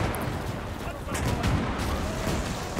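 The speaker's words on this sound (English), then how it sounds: "it looks like the autocannon is opening up" An autocannon and an artillery battery keep firing in the World War II game Gates of Hell, where a Flak 88 hill battery faces Soviet T-34s. The booms blend into a dense, continuous rumble with a voice talking over it.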